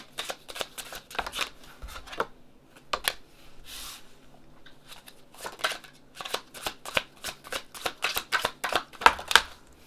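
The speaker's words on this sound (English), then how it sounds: "I will go ahead and shuffle your cards now." Tarot cards being shuffled by hand, a run of crisp riffling and flapping bursts in quick irregular clusters, close and fairly loud, with brief pauses between shuffles and no talking.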